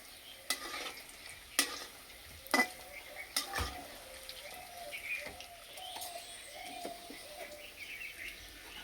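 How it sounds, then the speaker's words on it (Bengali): Potato-filled rosh puli pitha fry slowly in oil over low heat, giving a soft, steady sizzle with occasional sharp clicks and scrapes of stirring, quiet and close. "একটু সময় ধরে আস্তে আস্তে ভাজলে পিঠেগুলো একদম মুচমুচে হয়ে ভাজা হবে।"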